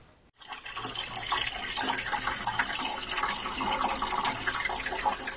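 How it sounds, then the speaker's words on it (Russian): Water gushes steadily from a burst heating pipe in a building basement, a dense continuous rushing and splashing that holds at an even level throughout, with no voices. "Это мелодичное журчание воды раздается в подвале на вокзальной 6А. Прорвало трубу отопления."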